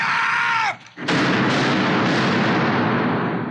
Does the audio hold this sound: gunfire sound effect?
yes